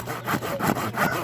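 A hand saw cuts through a fish with steady back-and-forth strokes, about three rasping passes, close and fairly loud with no talking.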